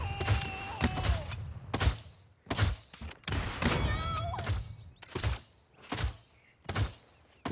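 Drogoz's rocket launcher in the video game Paladins firing explosive rockets, a series of sharp thumping blasts at roughly even intervals, each followed by a short whooshing tail.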